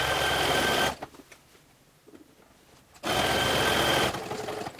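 A sewing machine runs a stretch stitch through stretch fleece for a cowl, whirring loudly for about a second, pausing, then starting up again and running steadily to the end.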